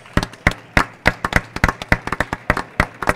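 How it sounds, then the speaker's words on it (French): An audience at an award ceremony claps for a winner, giving a steady burst of sharp, separate hand claps at moderate distance that continues for a few seconds with no talk over it. "C'est IDEUM, Nouvelle Nature, qu'on applaudit très fort"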